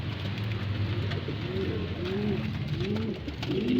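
The racing pigeon White Feather coos, with repeated low, rolling coos in a steady series, close and clear over constant background noise and no talking.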